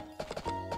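Horse hooves clip-clopping in the farming video game Story of Seasons: A Wonderful Life, a quick burst of four or five clear, close hoof clops in under a second.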